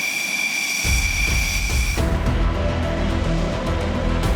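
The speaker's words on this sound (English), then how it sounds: "We're here to document the latest addition to the IAF's fighter jet inventory," A loud Indian Air Force Rafale fighter jet roars at Hasimara air force station, first a high whine, then a deeper, broadband thundering rush that stays steady and close.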